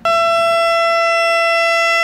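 A steady electronic warning siren from North Texas severe weather season sounds loud and alone, holding one sustained harmonic tone for about two seconds before cutting off.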